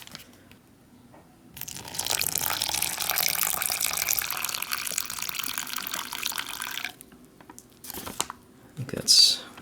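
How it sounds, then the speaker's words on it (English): Hot water pours steadily into a pouch of Canadian IMP MRE onion mashed potatoes for about five seconds, a close, loud rush that ends with soft crinkling of the packet and a brief clink. "we'll reconstitute our onion mashed potatoes. Some hot water."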